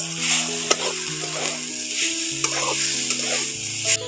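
Grated coconut and sugar being stirred in a hot pan while making filling for dudh puli pitha, with close scraping stirs and light sizzle, sharp utensil taps against the pan, and a steady tonal hum underneath.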